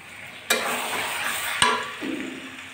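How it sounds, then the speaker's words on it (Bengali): Washed chicken pieces drop into frying spice masala in two sharp bursts, and each brings a louder surge of close sizzling that continues in between. No one speaks. "এবার আমি ধুয়ে রাখা চিকেনগুলো দিয়ে দিচ্ছি মশলার ভিতরে"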